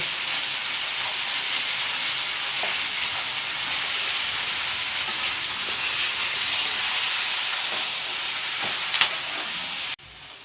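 Onion and chili fry in a pan with a steady, even sizzling hiss that continues without a break until a brief clatter and a sudden drop near the end.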